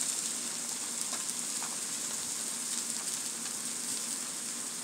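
Onions, mushrooms and garlic sizzle in a pan with a continuous, even hiss, close and steady throughout, with no talk over it.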